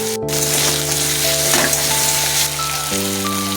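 Meat with turmeric sizzles and fries steadily in a pan while being stirred, a continuous loud crackle with no talking.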